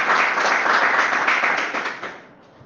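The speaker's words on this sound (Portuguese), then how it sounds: "vamos adorar o Senhor com palmas bem forte e bem feliz para Ele" Congregation clapping hard and steadily during a church worship service, a dense continuous wash of hands that fades out near the end.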